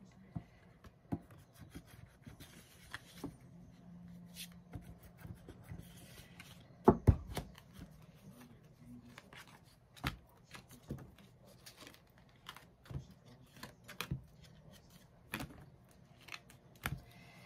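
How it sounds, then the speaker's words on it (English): Large oracle cards are shuffled by hand without bending them, giving quiet, intermittent rubbing and soft slapping card sounds, faint and close, with a few sharper taps and no talking. "These cards are too big for me to shuffle the traditional way."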